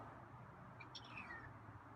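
A feral cat gives a single faint, short meow partway through, heard at a distance against quiet background hiss.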